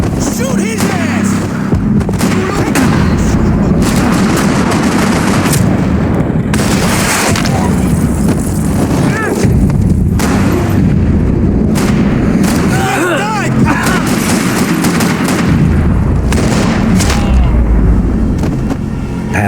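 Rapid, sustained gunfire and booming shots from the Max Payne 3 video game, loud and dense throughout with bursts and impacts, and voices shouting under the action.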